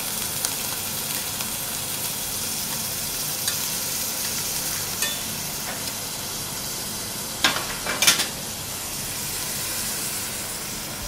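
Rice and mushrooms sear in a pan for cacio e pepe risotto, a steady close sizzle with stirring scrapes and a short louder clatter near the end, no voices.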